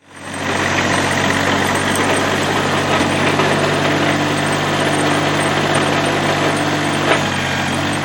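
Tractor engine idling steadily as it backs into a shop, a loud, constant low drone with faint rattling vibration running the whole time and no talk.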